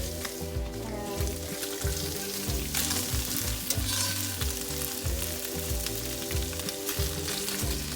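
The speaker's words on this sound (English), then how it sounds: "So I'm just gonna stir it. So you want it to be just nicely brown." Paneer browns in a hot pan while being stirred, with a steady, close sizzle throughout and a rhythmic musical bed underneath.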